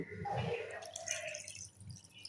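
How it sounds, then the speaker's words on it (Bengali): About half a bowl of water poured into sour yogurt batter for set dosa, a brief close splashing pour that trickles off, with no talking. "এবার দিয়ে দেবো হাফ বাটি মতো জল।"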